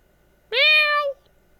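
A human voice imitates a cat with a single clear meow, lasting just over half a second, loud and close against near silence.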